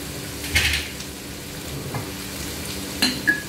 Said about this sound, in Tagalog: pati yung bell pepper. So, ayan, isusaute lang natin yan